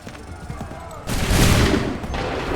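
A volley of musket fire from a line of soldiers in Assassin's Creed III bursts out as one loud, rolling crackle of overlapping shots, following a moment of quieter battlefield noise and shouting.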